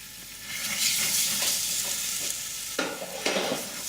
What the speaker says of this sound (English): Start to fry that off as well.